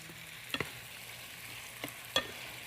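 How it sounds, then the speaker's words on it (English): Pork and cauliflower rice frying in a pan, a low steady sizzle broken by a few sharp clinks of stirring utensils against the pan. "Cauliflower rice is cooking."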